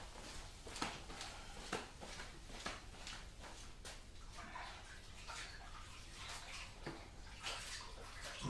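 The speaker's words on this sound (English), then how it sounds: "wash my hands." Hands washed under a running tap in a home kitchen during cake decorating, a steady faint rush of water broken by soft splashes and rubbing.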